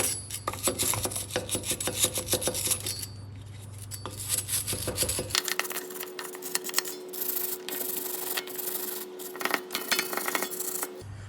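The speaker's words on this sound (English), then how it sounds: "So just get in with the wire brush" A wire brush scrubs hard and steadily at rust on a Ford Ranger front brake hub, a dense, continuous close-up scratching with a low motor hum through the first half.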